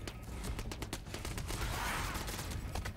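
Rapid gunfire bursts in Spyro Reignited Trilogy, a dense crackle of repeated shots filling the moment, close and fairly loud with no talking over it.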